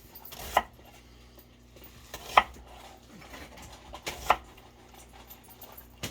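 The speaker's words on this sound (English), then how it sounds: "Chop that in half." Knife chopping through ingredients for beef barley stew on a cutting board, three separate sharp thunks spaced about two seconds apart in a quiet kitchen.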